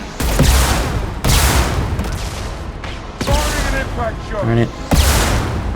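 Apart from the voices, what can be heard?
rocket launcher fire in Mass Effect 2 video game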